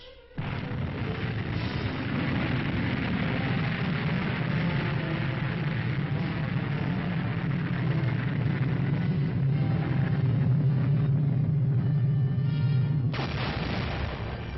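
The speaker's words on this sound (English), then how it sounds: "The Army fires Honest John. And La Crosse." Army Honest John and La Crosse missiles are fired in a dense, continuous roar of rocket blast that holds loud and steady for about thirteen seconds, then cuts off abruptly. Recorded with a muffled, old-film quality.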